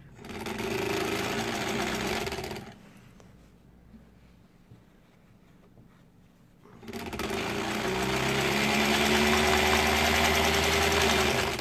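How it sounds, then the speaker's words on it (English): A sewing machine with a real motor runs while a quilt is pieced, giving a loud whirring drone with a knocking vibration. It stops for about four seconds of near quiet, then starts up again and runs steadily to the end. "you'll notice this machine sounds quite a bit different than my other machine. It's got a real motor going here."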